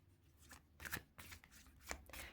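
A deck of tarot cards is shuffled up close in quiet, a run of soft riffling swishes and papery slaps in uneven bursts.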